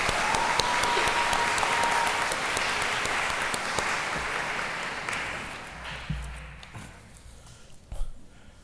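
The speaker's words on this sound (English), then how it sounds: "So if we could give her a round of applause for her accomplishment." Audience applause at a university president's awards evening, a dense clapping crowd that stays loud for several seconds, then thins out and fades to a few scattered claps.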